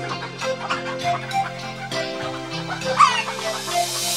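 A big fat hen clucks in a children's nursery rhyme, brief clucks woven into a continuous cheerful musical accompaniment.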